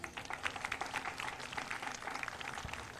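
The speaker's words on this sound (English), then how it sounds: "give them a round of applause, please" Crowd applause at a City of Miami Beach event honoring those who served, a dense, steady patter of many hands clapping, moderately loud and sustained throughout without any talking.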